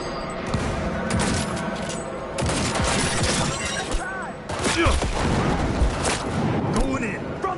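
Chaotic combat in Cyberpunk 2077 Phantom Liberty, with shotgun blasts going off among shattering glass, other gunfire and clattering impacts, loud and irregular, with a voice talking over the mix.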